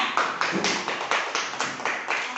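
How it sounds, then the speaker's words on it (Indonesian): A small class claps for a student group, a rhythmic run of about ten quick, even clap bursts, close and moderately loud with no talking. "Tepuk tangan dulu untuk kelompok 3."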